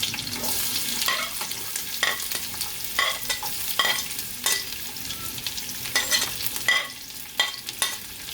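Onions frying with oil and cashews in a pan for Hyderabadi mutton biryani, with a steady sizzle broken by repeated scraping stirs at a close, even volume.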